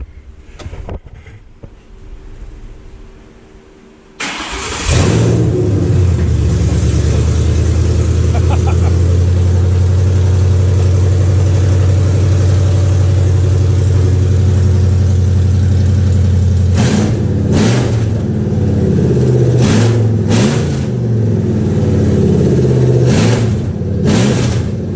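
A 1966 car fitted with open Stainless Works long-tube headers cranks and fires after a few quiet seconds. It then idles loud and close with a deep rumble, and several sharp revs burst out near the end.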